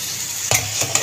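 Potatoes frying and being stirred in a pot while cooking an Odia fish curry, with a steady hiss of sizzling oil and a few sharp scraping stirs standing out near the end.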